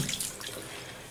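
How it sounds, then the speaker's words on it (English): Warm water runs steadily from a tap to wet a shaving brush, a soft, continuous splashing at low level with no talk. "And I'm gonna wet this brush with warm water."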